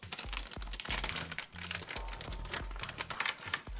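A plastic bag holding model kit steering parts and screws is opened up close, giving a dense run of crinkling and rustling with small taps and clicks from the parts shifting inside.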